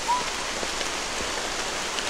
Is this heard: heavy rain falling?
yes